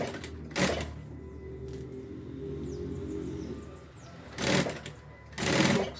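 A sewing machine stitches around a Paris-style satchel bag, running in a steady close whir punctuated by a few louder bursts of clattering and handling noise.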